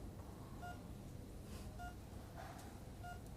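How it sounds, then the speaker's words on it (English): A telephone is dialled in a British TV comedy scene, three faint, evenly spaced tone beeps over a low background hum. "I was going to say I'd phone Prudence and cancel"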